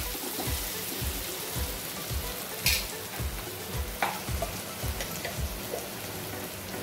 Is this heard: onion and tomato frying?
yes